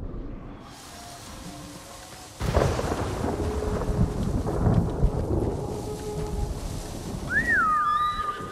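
Thunder in the video game Ghost of Tsushima: a sudden loud crack followed by long rolling rumbles over steady rain, with faint whistling tones near the end and no talk.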